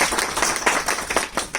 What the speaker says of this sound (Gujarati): તો એ બદલ તમારા બધા માટે જોરદાર તાળીઓ.